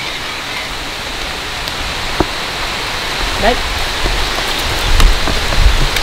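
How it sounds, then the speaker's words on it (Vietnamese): Rain falls outdoors as a steady, broadband hiss that fills the whole stretch, with a brief spoken word near the end. "nó đang mưa rồi các cháu ạ, nó đang mưa rồi"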